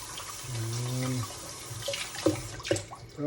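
Tap water runs and splashes into a sink as chicken drumsticks are rinsed, a steady wash broken by a few sharper splashes and clatters, with brief speech at the start.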